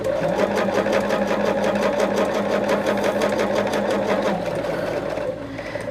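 Quilt binding being stitched on a sewing machine: a loud, continuous close-up whir with rapid needle chatter that runs steadily and eases slightly near the end, with no talk over it.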